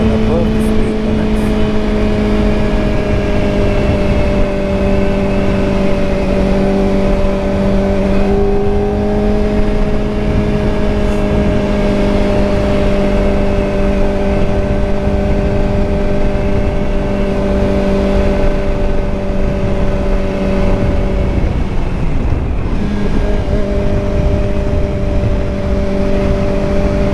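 A Kawasaki ZX-4RR 40th Anniversary Edition sport bike cruising above the speed limit, its engine holding a loud, steady high-pitched drone with a brief drop and recovery in pitch, wind noise rushing beneath.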